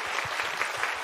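A church congregation claps together during an Easter Sunday worship service, a brief burst of close, full applause with light rhythmic thumps running through it.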